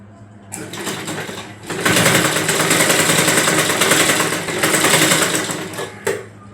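Sewing machine running a straight seam on an eight-panel saree petticoat, a close, loud, steady rapid stitching rattle with a short start, near-continuous running and a brief stop before a final burst.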